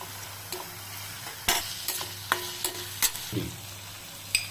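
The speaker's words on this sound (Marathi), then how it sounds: "कांदा हा थोडा परतून झालेला आहे आपण ह्याच्यात शिमला मिरची ऍड करूया" Onion and capsicum being sautéed in a pan for street-style cheese masala pav, with a steady low sizzle under scattered sharp scrapes and taps of a spatula against the pan, close by.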